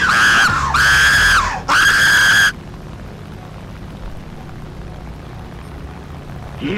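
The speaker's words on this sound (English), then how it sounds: "Stop screaming!" A person screams loudly in three long, high-pitched bursts during a War Thunder match flying an F4U, then the screaming stops and leaves a low steady background hum.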